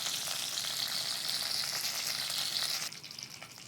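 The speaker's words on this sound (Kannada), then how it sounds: "ಸಾಸಿವೆ, ಉದ್ದಿನಬೇಳೆ ಮತ್ತು ಕರಿಬೇವು ಈ ಮೂರನ್ನು ಹಾಕ್ಕೋತಾ ಇದ್ದೀನಿ." Mustard seeds, urad dal and curry leaves fry in hot oil with a close, steady sizzle. The sizzle drops in level near the end, and there is no talk.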